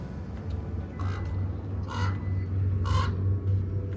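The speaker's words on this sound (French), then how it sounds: "On a des oiseaux qui sont tout jolis là." Birds caw in three loud, harsh crow-like calls spaced about a second apart, close by at a visitor center in Death Valley, California, over a low steady hum.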